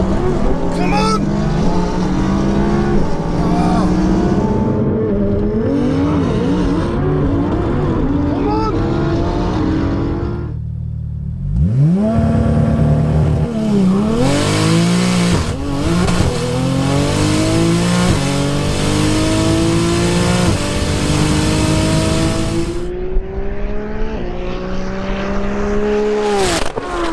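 Two tuned street cars launch and accelerate hard in a drag race, with engines roaring loudly, rising pitch sweeping through repeated gear changes and brief lulls, while a voice talks over them.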